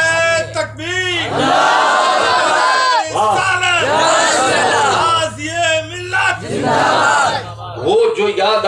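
A large crowd at a religious speech gathering roars a loud chant in reply to the takbir call, sustained shouted voices rising and falling in several swells, close and dense throughout.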